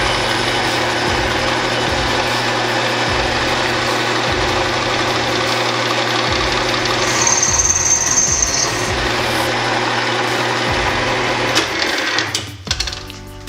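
Milling machine cutting a poorly clamped part, a steady mechanical drone with rhythmic rattling chatter that grows rougher midway and then winds down at the end, heard alone.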